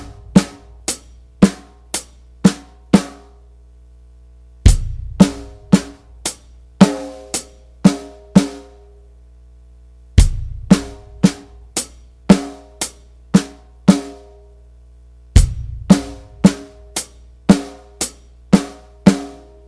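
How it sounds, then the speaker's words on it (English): A drum kit plays a slow groove in repeating phrases: crisp closed hi-hat strokes with kick drum thumps underneath and soft ghosted snare notes, played clearly and up close with no talking. "So the very first right hand goes to a closed hi-hat with a kick drum underneath it."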